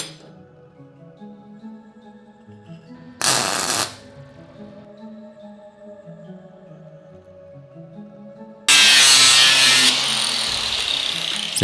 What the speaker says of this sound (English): Instead of using the angle grinder, I decided to switch it up and use my horizontal bandsaw.